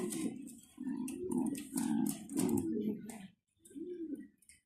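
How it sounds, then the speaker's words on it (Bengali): Bulobar French Mundian pigeons cooing in close, repeated low throaty phrases, several in a row with a brief pause before a final coo, at a pigeon farm. "এগুলো হচ্ছে বুলোবার ফ্রান্স মুন্ডিয়ান কবুতর"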